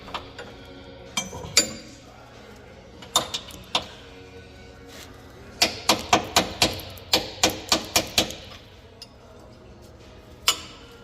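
A metal wrench levering against a rear lateral arm on a 2005 fourth-generation Toyota 4Runner in a workshop, producing sharp metallic knocks and clanks, scattered at first and then a quick run of repeated taps, close by with no talk.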